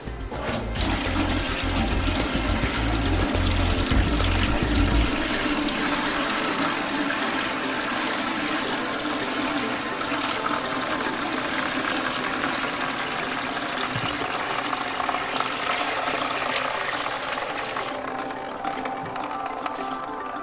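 Dirty water pours into the top of a biosand water filter, a steady broad rushing and trickling that runs the whole way, heavier with a low rumble at first, then settling into an even flow.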